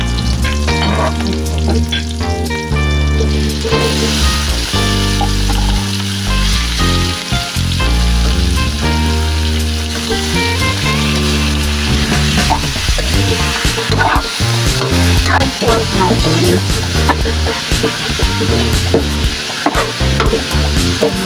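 Pork sizzles loudly in a pan with onion and garlic for pochero and is stirred now and then, a continuous crackling hiss up close with music playing underneath.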